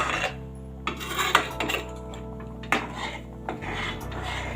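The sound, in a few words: stirring besan mixture in a pan with a spoon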